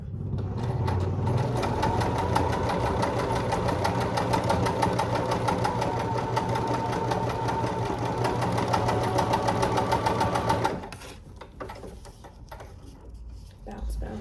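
Sewing machine chain piecing a bear paw quilt block: a steady, close mechanical whirr with fast rhythmic needle ticking for about ten seconds, then it stops and leaves soft clicks and handling sounds, with a quiet voice talking throughout.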